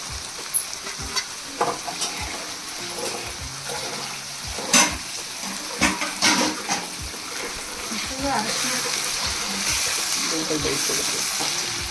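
Grated coconut is tipped into a pan where food is already frying, raising a loud, steady sizzle with stirring scrapes and occasional knocks of a spoon, close by and without talk.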